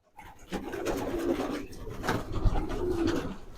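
Belgian racing pigeons coo at a pigeon show, a low, throaty, rolling murmur running steadily through the clip with a few bumps and handling noises over it.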